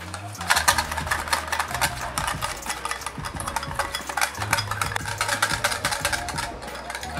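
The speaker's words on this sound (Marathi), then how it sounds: "आता हे आपल्याला व्यवस्थित मिक्स करून घ्यायचं आहे" Oil, curd and sugar are whisked together in a bowl for a zebra cake, a fast, continuous rhythm of scraping clinks from utensil against bowl, close and fairly loud.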